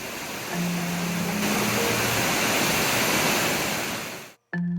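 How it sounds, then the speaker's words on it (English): Upper Nauyaca waterfall in Costa Rica, a tall falls dropping over 170 feet, roaring as a loud, steady broadband rush that fills the whole stretch before cutting off abruptly near the end. "we had finally reached the upper waterfall, and it was every bit as impressive as we had remembered"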